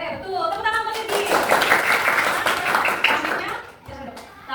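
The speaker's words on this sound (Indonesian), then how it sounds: "Tepuk tangan buat Pipit." Schoolchildren clap together for a classmate in a classroom, a dense burst of hand claps swelling for a few seconds then fading, close by, with voices in the room.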